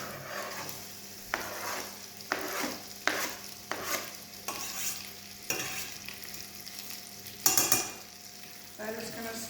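Vegetables and salad sautéing in a pan, stirred with a utensil in repeated scraping strokes over a steady sizzle, with occasional clinks of metal against the pan; no voices.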